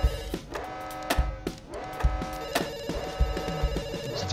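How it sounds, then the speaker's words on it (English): A telephone rings repeatedly in short bursts, fairly quiet and mixed with background music and other sounds. "Please pick up the phone."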